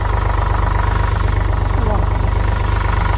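A hired tractor idles at a field before ploughing, its engine thumping in a fast, steady, even pulse, loud and close for the whole stretch, with indistinct voices faintly underneath.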